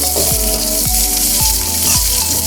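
Sliced garlic, shallots and red chili sauté in hot oil, giving a loud, dense sizzle with a few rhythmic clunks of a spatula against the pan, and no talking.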